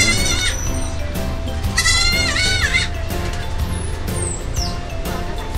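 A young goat bleats in repeated wavering cries at a busy pet market at Chatuchak, Bangkok, loud over constant crowd hubbub and background music, with faint chirping nearby.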